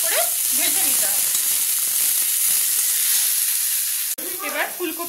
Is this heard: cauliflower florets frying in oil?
yes